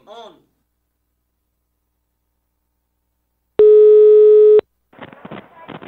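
Telephone tone while placing a call: after a short voice and long silence, a loud steady electronic tone sounds for about a second, then a person starts speaking.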